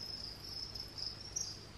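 Crickets chirping indoors in a home during an insect infestation, a faint, continuous high trill pulsing steadily with no other sounds.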